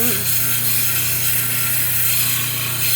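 A gnarly gray shell piece is ground into a pendant on a powered grinder, a steady loud whirring hum with continuous abrasive rubbing, close and unbroken, with no voices.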